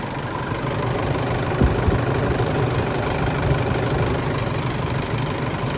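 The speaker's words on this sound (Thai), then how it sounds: "ฟังเสียงเครื่องกันนะครับ" A 2014 pickup with a 3.0-litre VGS Turbo diesel engine idles steadily, a continuous low rumble with faint knocking texture and no voices.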